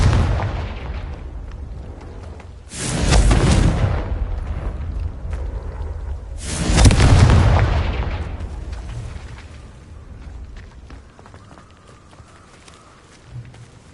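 Two loud booming blasts of the Confringo fire spell in Hogwarts Legacy, each a sharp explosive burst with a rumbling tail, spaced a few seconds apart over quieter game ambience.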